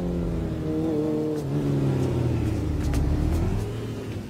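A JetX vehicle's engine revs steadily with a rising and falling drone, loud and close, running continuously with no voices over it.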